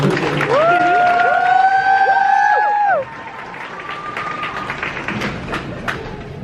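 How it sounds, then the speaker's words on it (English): A graduation crowd applauds and cheers, with high drawn-out whoops over the clapping for the first three seconds before the clapping carries on alone at a lower level. "Can we give him another round of applause?"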